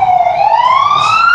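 An ambulance siren in Minecraft wails loudly in a single rising sweep, clear and close with no other sound over it.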